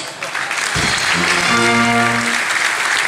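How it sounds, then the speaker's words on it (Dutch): Theatre audience applauding a local politician at a Limburg carnival key-handover ceremony, dense steady clapping with a held sung or voiced tone rising over it midway. "Dus applaus voor Mout."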